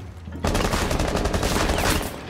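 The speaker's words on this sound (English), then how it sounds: "Someone's still shooting at me from this window." Enemy gunfire in Rainbow Six Siege on the Coastline map, a sudden loud burst of rapid automatic shots that breaks in after a short quiet lead-in and runs continuously to the end.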